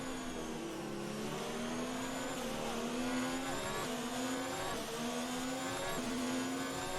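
High-revving Formula 1 car engine in the F1 2019 racing game, a steady loud whine that holds and shifts in pitch through gear changes, continuous with no talking.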